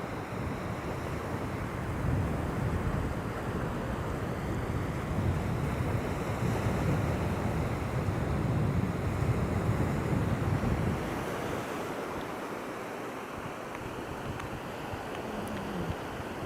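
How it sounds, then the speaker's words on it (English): Wind and waves on a shoreline at low tide, steady loud roaring surf and gusting wind buffeting the microphone, easing slightly toward the end. "The wind's definitely picking up."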